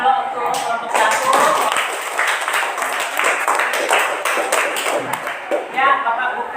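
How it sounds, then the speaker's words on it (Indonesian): Classroom applause for a student group, a burst of many hands clapping quickly and unevenly, loud and close, lasting several seconds with a few scattered voices mixed in. "Oke, tepuk tangan dulu untuk kelompok 1."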